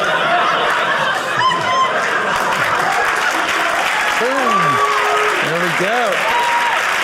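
Applause at a comedy show, the crowd clapping steadily with scattered chuckles and laughter, while a performer speaks briefly over it.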